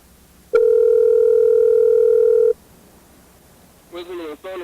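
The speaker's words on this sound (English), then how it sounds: "Listen to the phone ring." An outgoing phone call's ringback tone sounds as one steady, loud two-second buzz, followed after a pause by a brief burst of a voice.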